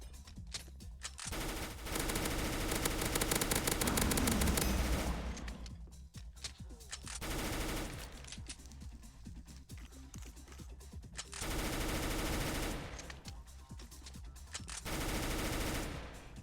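Rapid automatic gunfire in a video game, arriving in several loud sustained bursts separated by brief lulls, with no talking.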